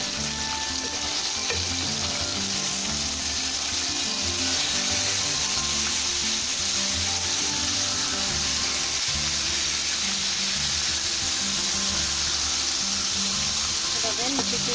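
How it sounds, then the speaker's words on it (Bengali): Fish sizzles steadily in hot oil in a pan as the pieces are turned, with scraping and stirring noises over a constant loud frying hiss, prepared for a bitter gourd, potato and fish curry. "মাছগুলো এখন আমি উল্টে দেবো।"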